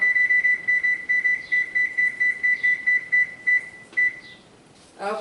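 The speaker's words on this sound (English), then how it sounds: "Set my timer." A digital kitchen timer beeps close by in quick, steady pairs for about four seconds while being set during the making of a braided strudel coffee cake, then stops, leaving a quiet room.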